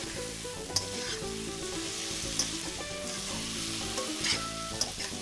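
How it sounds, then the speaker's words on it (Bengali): Chili powder, a mixed spice paste and chopped tomatoes fry in a pan, a steady loud sizzle with occasional scraping stirs and clinks, no voices. "লঙ্কা গুঁড়ো কুড়ি সেকেন্ড ভেজেই গুলে রাখা গুঁড়ো মশলাটা ঢেলে দেবে"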